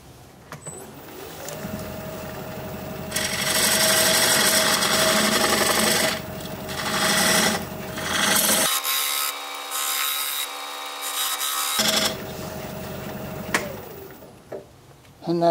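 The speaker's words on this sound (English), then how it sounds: "I'll square up the sides of that tenon. And for that, I'm going to use this diamond point tool" A diamond point tool scrapes and rubs against spinning box elder wood on a lathe while squaring a tenon. The hum of the running lathe sits under long, loud passes of cutting with a short pause in the middle.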